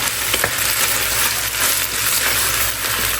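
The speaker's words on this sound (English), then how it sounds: "So basically you're stirring it until everything is coated with that oil" Rice being stirred in hot oil for Guyanese-style fried rice, a loud, continuous close-up sizzle and crackle with soft scraping of the spoon running through it, no pauses.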